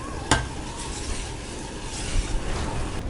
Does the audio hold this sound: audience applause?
no